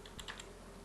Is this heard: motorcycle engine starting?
no